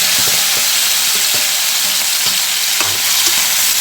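Thinly sliced onions, green chillies and tomato pieces sizzle loudly in a pan for a spicy chicken gravy curry, with a steady crackle and several soft scrapes of stirring, no voices.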